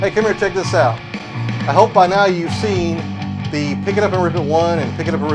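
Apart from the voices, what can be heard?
No everyday noises stand out.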